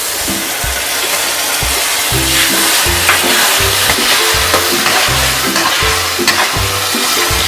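Puree made from four large tomatoes goes into spices frying in a pan, producing a loud, close sizzle broken by repeated rhythmic scraping and stirring strokes, with no voices.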